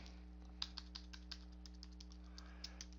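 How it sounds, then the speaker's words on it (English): Light typing on a computer keyboard: a quiet, irregular series of soft key clicks over a low steady hum, with no talking. "So I'm going to type in here"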